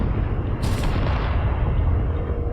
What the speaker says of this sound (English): We got some explosions going on here.